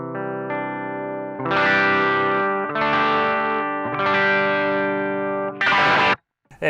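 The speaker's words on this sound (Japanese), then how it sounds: "優しく弾くとクリーン、強く弾くとクランチサウンドみたいなのがやっぱ気持ちいいですね。" Electric guitar played through a BOSS BD-2W Blues Driver overdrive pedal: several sustained chords ring out with crunchy distortion, separated by short gaps, then a brief fierce strum at the end.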